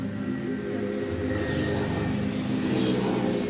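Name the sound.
tractor engine revving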